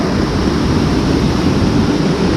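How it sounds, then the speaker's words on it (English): Water from a South Carolina waterfall at Table Rock State Park pours down over rocks into lower falls, with a strong, deep current. It makes a steady, loud, close roar of rushing water with no break and no voices. "And then it streamlines down to your lower falls."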